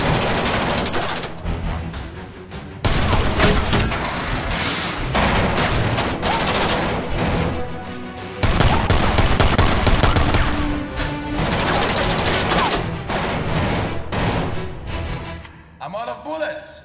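Prolonged film gunfire in a Stallone versus Van Damme fight scene, loud and near. It comes as dense bursts that run for most of the stretch with brief gaps, then trails off near the end. Speech is likely mixed in.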